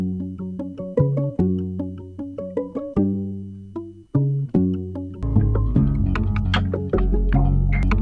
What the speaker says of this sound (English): he's got this mandolin phrase